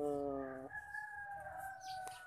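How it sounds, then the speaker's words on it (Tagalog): A chicken crows once up close, a loud drawn-out call that rises and trails off over about two seconds, with faint rustling behind it. "Galit na yung chicken mo."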